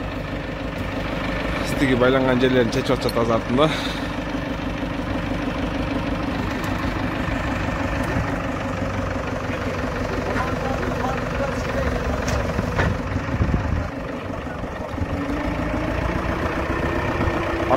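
A tractor engine idles steadily throughout while the tractor is unloaded from a shipping container, and someone talks over the running engine.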